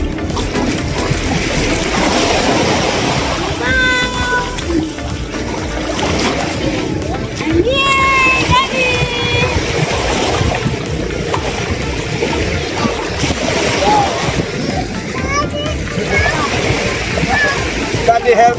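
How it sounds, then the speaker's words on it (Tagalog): Continuous loud sloshing and splashing of strong waves close by, with excited voices and shouts mixed in throughout. "lakas ng alon"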